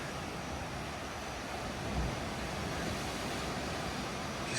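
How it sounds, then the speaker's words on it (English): Steady broadband ocean surf at a scenic coastal viewpoint on the Big Island, Hawaii, with a cave below, heard as a continuous wash of waves mixed with wind noise on the microphone, without voices. "That ocean."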